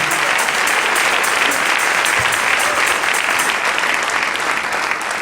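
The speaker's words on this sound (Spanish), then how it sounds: "Dele ese aplauso al Rey" A church congregation claps in sustained, dense applause that fills the room evenly from start to finish, loud and close with a faint murmur of voices underneath.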